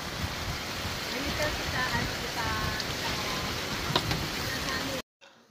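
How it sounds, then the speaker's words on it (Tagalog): Strong storm wind in Canada roars and buffets against a tent with a steady hiss like rain on fabric, continuous and close before cutting off abruptly near the end. "Sobra talaga ang lakas ng hangin."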